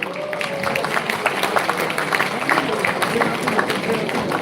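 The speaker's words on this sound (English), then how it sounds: "Give him a huge round of applause" An audience applauds for Dr. Parvaz, a delegate from HIVE Academy (UK), at a PLAB session: steady, dense clapping across the whole stretch, with a voice audible underneath.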